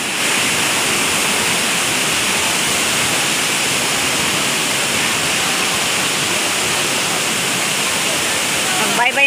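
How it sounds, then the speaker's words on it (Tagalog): A waterfall at Bird Paradise in Singapore pours as a broad, constant hiss and rush of water, loud and unbroken throughout, with no distinct talk rising above it. "Hindi ba ako nakakita ng totoong falls?"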